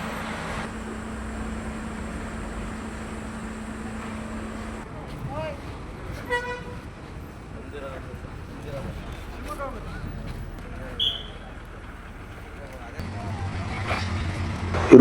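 A bus pulls into Kadur bus stand on the Shivamogga to HD Kote route, its engine rumbling over busy station noise, with a few short horn toots and voices in the background.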